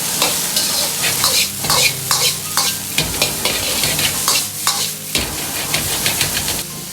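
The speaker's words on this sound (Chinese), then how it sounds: "加入控干水分的花菜，这时候火可以稍微开大一点，快速翻炒几下，炒出花菜里边多余的水分" Cauliflower stir-fries over high heat in a wok with pork belly, ginger and garlic, giving a continuous sizzle broken by repeated sharp clanks and scrapes of the spatula against the metal.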